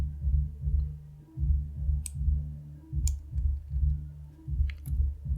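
Sparse, soft keyboard key clicks, about three isolated taps spread out, sit over a steady, rhythmic low hum during setup of ChromeOS Flex in a QEmu virtual machine.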